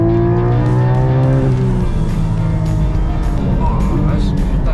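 A Porsche Cup race car brakes hard with its engine note dropping through falling downshift tones, tires scrubbing as it slows, heard loud and close from inside or beside the car, with voices under the engine.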